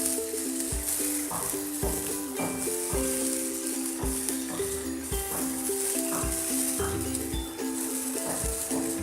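Cauliflower and potatoes with green chili and ginger sizzle and hiss in a pan while being stirred, with repeated scraping strokes of a spoon breaking through the steady frying crackle.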